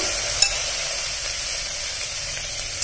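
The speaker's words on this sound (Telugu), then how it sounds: "ఇప్పుడు ఇందులోకి ముందుగా వాష్ చేసి పెట్టుకున్న శనగపప్పు, కందిపప్పు ఇవి రెండు వేస్తున్నాను." Washed chana dal and toor dal frying in oil in a pan, giving a continuous close sizzle with a faint stirring scrape, steady and fairly loud, and no talking.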